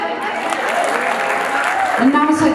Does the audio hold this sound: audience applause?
yes